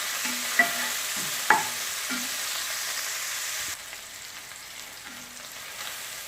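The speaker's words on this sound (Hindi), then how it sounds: "और प्याज को 1 मिनट फ्राई करते हैं" Onions sizzle steadily in a pan with already-fried chicken for chowmein, with a couple of sharp utensil clinks early on and the frying hiss dropping slightly quieter partway through, no voices.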